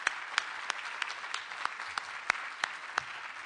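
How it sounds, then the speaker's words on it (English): A scattered round of audience applause at a faculty awards presentation, with sharp individual claps standing out over a steady patter of hands throughout. "give everyone a round of applause for just being here."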